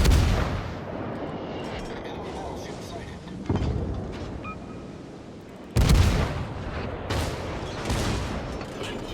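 Naval gunfire in World of Warships: heavy booming salvos from a Tier 3 Kitakami cruiser, two big blasts a few seconds apart with rumbling tails, loud and close, while someone talks over the action.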